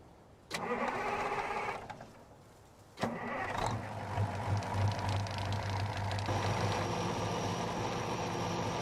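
In Farming Simulator 19, an articulated Versatile tractor engine fires up twice, with abrupt onsets, then settles into a steady rumbling run at close range.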